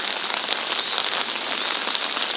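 Steady rain falls in Seoul during cherry blossom season, a dense, even hiss of drops hitting surfaces nearby, continuous and without talk.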